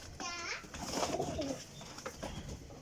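A golden racing pigeon coos softly and close by in a loft, its cooing set among faint chatter and small background noises.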